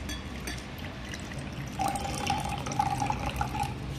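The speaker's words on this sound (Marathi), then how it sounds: "आता आपण थोडंसं पाणी टाकणार ह्यात" Water is poured into a container for a red food colouring underwater volcano experiment, a soft steady trickle and gurgle that starts about halfway through and runs to the end over a low background hum.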